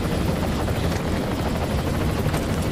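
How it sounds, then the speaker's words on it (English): Helicopter rotors in the video game Gears of War, a steady, loud, continuous droning thrum that fills the scene without a break and with no voices over it. "I love the look of those helicopters."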